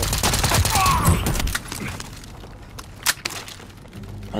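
Rapid gunfire in an online battle royale match, a dense fast volley up front easing into scattered sharper shots and faint game noise, no talking.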